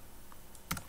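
A few keystrokes on a computer keyboard while a project name is entered in KiCad's project manager: sparse clicks, then a quick cluster of taps near the end, close and fairly crisp.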